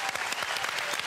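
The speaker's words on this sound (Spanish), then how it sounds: "Un aplauso para ustedes." Studio audience of a 2001 television show breaking into brief, lively applause, a quick dense burst of clapping heard at moderate distance.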